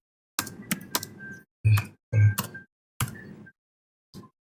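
Keys tapped on a computer keyboard while entering a linear regression command, sparse clusters of sharp clicks in short bursts separated by pauses, close and quiet.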